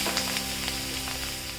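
Washed drumstick pods roasting in a hot pan for a rustic Maharashtrian wild-vegetable drumstick curry give a steady, close sizzle that holds evenly throughout with a few faint crackles.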